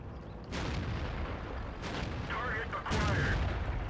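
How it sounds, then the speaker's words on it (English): Artillery shells from the World of Tanks video game land in heavy booming blasts, a sharp impact arriving, another near the middle, and a louder close burst near the end over a rumbling battle bed. "Artillery is coming down on us, so I'm going to keep moving."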